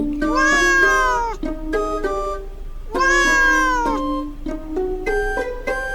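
Several cats meow repeatedly in long, pitched, wavering calls, loud and close, with short pauses between bursts and no talk.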